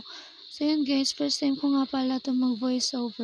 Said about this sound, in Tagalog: Yes, yung mga kuliglig po yun kasi gabi na dito sa amin.